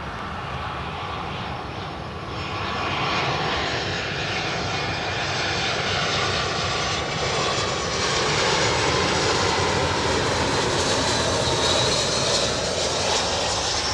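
Boeing 747-400 freighter engines roar steadily and loudly throughout, a broad continuous rumble with high whine, swelling slightly after a couple of seconds and holding near, with no talking.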